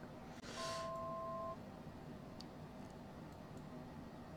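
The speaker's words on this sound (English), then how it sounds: "I think it's saying that we're just getting close to our altitude. I think that's what that beep means." A single steady electronic altitude-alert tone sounds for about a second in a flight simulator game, fairly clear over a constant low engine-like hum, with faint ticks afterward.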